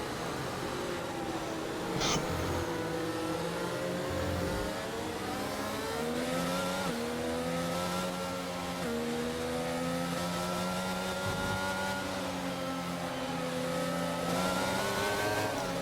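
Race cars circle slowly behind a safety car on a wet track in Spain, engines droning steadily at low speed with shifting pitch throughout, passing close enough to stay prominent in the mix.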